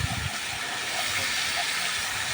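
Fish and potatoes sizzling together in hot oil, giving off a dense, steady hiss and crackle close up, with no voices.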